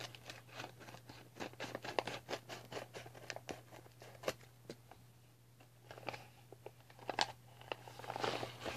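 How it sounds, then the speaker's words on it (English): Scissors snip and scratch through plastic packaging on a Smile Bright teeth whitening kit, a quiet run of close, irregular cutting crunches and rustles with short pauses and no talk. "And I just cut through the plastic as well."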